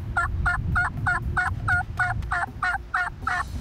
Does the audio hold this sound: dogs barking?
no